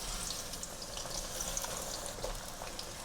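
Onions hitting hot oil for a tandoori cauliflower curry, a steady close sizzle and crackle that holds evenly across the moment without voices.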